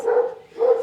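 A Catahoula dog gives two short barks close by, separated by a brief pause.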